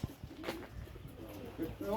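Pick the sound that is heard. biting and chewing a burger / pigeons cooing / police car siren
pigeons cooing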